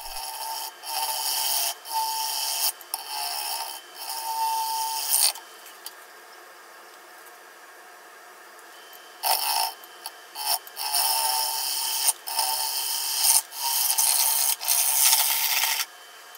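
A half-inch gouge truing up the inside of a live-edge maple bowl blank on a lathe, giving close scraping, rasping cuts in repeated bursts, with a quiet pause midway before the cutting resumes.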